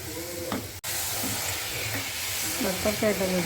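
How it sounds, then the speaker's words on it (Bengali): Dried fish frying with large capsicum-like chillies and beans, a continuous sizzle with stirring scrapes and a brief sharp clack midway. "আমি শুটকিটা রান্না করতেছি"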